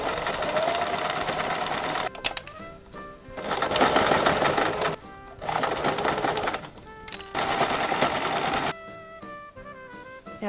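Sewing machine top stitching along dirndl apron ties, running in steady bursts of rapid stitching separated by short pauses, close and clear with no talking.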